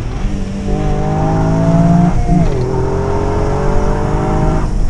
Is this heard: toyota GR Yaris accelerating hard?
yes